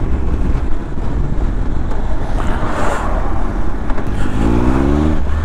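Triumph Tiger Explorer 1200 motorcycle on the move, a steady engine drone mixed with road and wind rush heard from the rider's position, with a rising rev toward the end.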